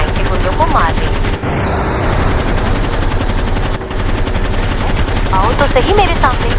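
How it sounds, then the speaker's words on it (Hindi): Sustained gunfire and automatic weapon bursts in the video game Gangster Vegas, loud and continuous through a busy fight with brief dips, with a voice speaking over the shooting. "मेरे हाथ में गन है, मैं गन से फ्रैंक के गुंडों को मार देंगी।"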